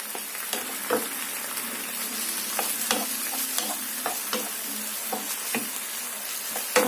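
Chicken cooks in a pan with a loud, continuous sizzle, broken by repeated stirring clicks and scrapes at close range.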